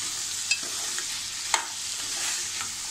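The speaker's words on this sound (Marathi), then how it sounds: "आता मी असे सुरण त्यात टाकलं आहे. थोडी परतून घेऊया छान अशी." Elephant foot yam (suran) pieces sauté in an oiled pan with a steady, close sizzle, broken by a few sharp spatula clicks against the pan. No one speaks.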